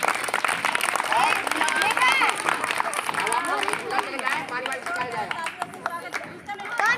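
Classroom children clapping loudly for a correct quiz answer at a school quiz session, busy and sustained over the whole stretch with chatter and a teacher's voice mixed in.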